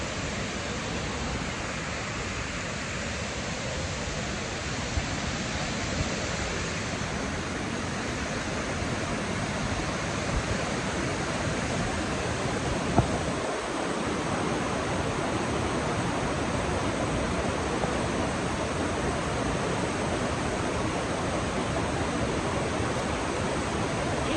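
A river in heavy flood roars in a constant, dense rush of water, loud and unbroken throughout with no other sounds standing out.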